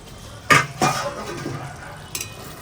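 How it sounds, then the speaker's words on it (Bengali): A metal lid is lifted off a cooking pot of cauliflower and paneer in milk, giving two sharp clanks close by, then a quieter clink a moment later over a faint simmer. "আমি ঢাকাটা তুলে এবার একটু দেখে নিই"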